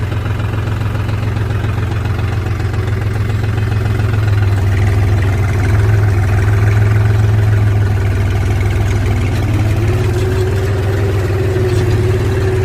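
A tractor engine idles close by with a loud, continuous low rumble and steady mechanical throb, its pitch rising slightly partway through, with no talking.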